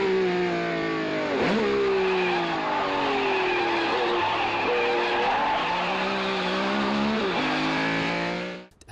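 A racing car engine, dubbed in as a Ferrari, roars loud and close throughout as it speeds through early-morning Paris streets, with pitch rising and falling through gear changes and brief tire squeals. No talking is heard.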